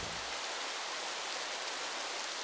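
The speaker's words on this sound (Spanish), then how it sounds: "Finalmente, aunque no sepamos cuándo, lloverá." Steady rain falling, a dense, even hiss of drops that stays level and unbroken for the whole stretch, with no voices or other sounds over it.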